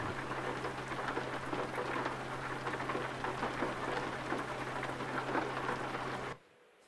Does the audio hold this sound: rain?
yes